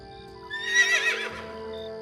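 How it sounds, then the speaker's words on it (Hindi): Cartoon horse sound in a forest scene, a short whinny with faint hoof clatter rising briefly at mid-loudness and then fading, heard alone with no talk. "तभी उसको घोड़े की टापों की आवाज सुनाई दी।"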